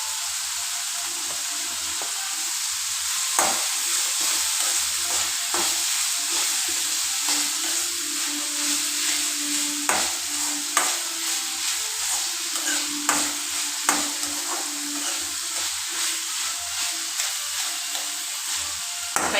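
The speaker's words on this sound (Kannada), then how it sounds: "ನೋಡಿ ಚೆನ್ನಾಗಿ ಫ್ರೈ ಆಗಿದೆ ಇದು." Okra stir-fried with turmeric in a pan gives a steady, close sizzle with soft scraping stirs and occasional sharp clicks of the spatula, with no voices over it.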